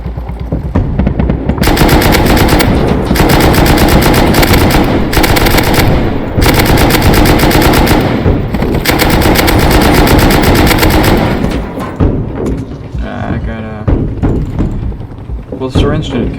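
Intense gunfire in the survival game Rust, a light machine gun rattling in long continuous bursts alongside rocket blasts during a helicopter fight, loud and dense before thinning into scattered shots and thuds, with a voice talking over it.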